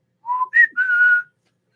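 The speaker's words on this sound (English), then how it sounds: "He whistled a tune to the window" A person whistles a short tune: two brief clear notes followed by one longer held note, close and alone against silence.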